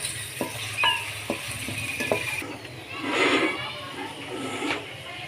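Onions frying to golden brown in a pan for a dhaba-style phool gobi sabzi, with a steady sizzle and a few sharp clicks and scrapes of stirring up close.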